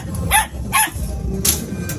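Belgian Malinois puppies at a pet market yip and bark in a few short, high bursts, close by, over a busy background murmur.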